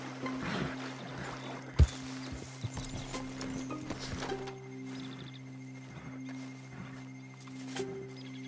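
Horse hooves clip-clop in the Red Dead Redemption 2 video game, a steady trotting rhythm alongside a low droning engine-like hum and game ambience, with one sharp thump near the start.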